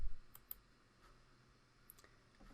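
Sparse mouse clicks at a computer while working in Microsoft Word: a few sharp, quiet clicks spaced out over a couple of seconds, with a near double click at the start and another pair toward the end, over faint room hum.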